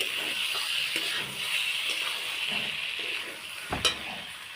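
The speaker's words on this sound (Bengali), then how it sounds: "আমি নাড়াচাড়া করে নেব" Food sizzles steadily in a hot pan while a utensil stirs it, with faint scraping and one sharper clatter near the end; no talking.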